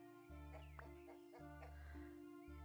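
Chicken clucking in the farming game No Place Like Home: a few short clucks spaced over about two seconds, above a steady droning background tone.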